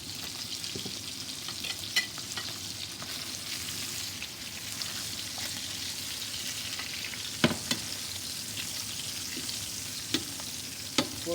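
Salmon fillet fries steadily in a pan, giving a continuous close hiss and crackle with a few sharper pops scattered through, loudest near the middle, and no talking.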